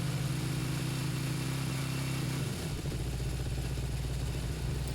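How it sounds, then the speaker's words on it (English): A 1977 Honda CB750K four-cylinder motorcycle engine idles steadily and loudly up close, its low rumble briefly dipping and shifting pitch midway before settling into an even idle again. "the engine sounds better, more stable, more in the idle condition that is not very sparkly"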